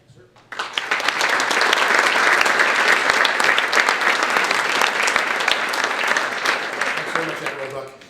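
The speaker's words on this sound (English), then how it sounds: "So I applaud each and every one of you." A dinner audience at an ethics essay award event applauds the award winners, a dense, sustained round of clapping from many hands that starts abruptly and carries on steadily for several seconds before tapering off.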